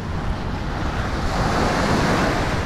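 Strong ocean waves pounding a beach shore, a steady loud roar of surf with wind buffeting the microphone, no pauses throughout.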